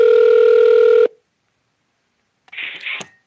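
Telephone tones while placing a return call, one steady loud tone for about a second, then silence, then a brief burst of higher electronic chirps.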